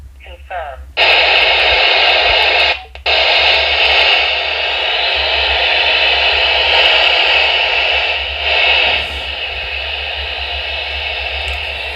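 Loud hissing squelch static from a handheld radio, a SCOM or Baofeng UV5R Mini, switches on abruptly, cuts out briefly, then resumes as a steady rushing noise before dropping to a quieter hiss.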